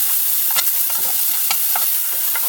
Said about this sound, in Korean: 이제 소고기 볶을게요. 소고기는 구슬구슬하게 볶아주시면 돼요.